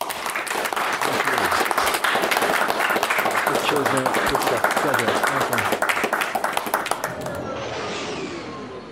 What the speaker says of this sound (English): Big round of applause for Ross.